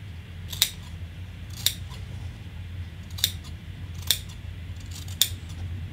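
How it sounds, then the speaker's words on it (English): Five sharp scissor snips cut fabric around the curved seam of a sewn Christmas stocking, each crisp click spaced about a second apart over a quiet background. "So we're going to go everywhere that there's a curve, and we're going to snip."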